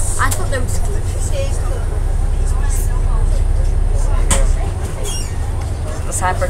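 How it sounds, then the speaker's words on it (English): The handbrake on an NLB bus on route 37M at Tung Chung Station is applied with a short, sharp burst partway through. It sits over a loud idling engine rumble and cabin chatter, and the engine noise drops slightly afterward. "This handbrake sounds so nice"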